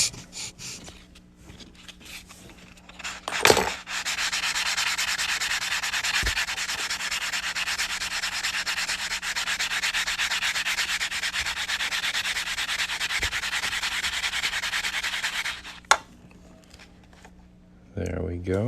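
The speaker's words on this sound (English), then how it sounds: "I'm going to sand down this cut edge a little bit" The cut edge of a Pennsylvania state quarter coin ring is sanded by hand in one long, steady, close rasping rub of about twelve seconds, framed by brief knocks and handling sounds, with talk likely somewhere in the clip.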